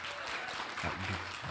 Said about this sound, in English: So give Drew a round of applause